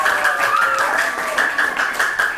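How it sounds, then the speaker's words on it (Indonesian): A school class claps hands during a group discussion lesson, a moderate patter of clapping set against a steady tonal hum and faint background voices. "tepuk tangan."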